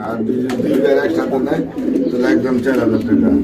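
Pigeons coo in a steady, overlapping murmur at a pigeon seller's market, with someone talking throughout over the birds.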